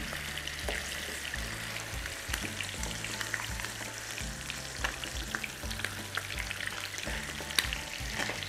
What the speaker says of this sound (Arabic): نجيب بقى الفرخة اللي احنا خليناها تمام، وننزل بيها هنا كده في الطاسة